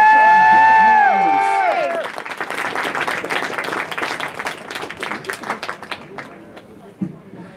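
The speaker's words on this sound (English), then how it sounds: "Give them a cheer, give them encouragement" At a live fight event, a crowd applauds and cheers for two exhausted fighters, with dense clapping continuing after an announcer's voice trails off at the start.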